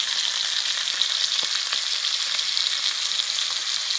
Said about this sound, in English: Turn the steak up on its edge. sear the edge like that.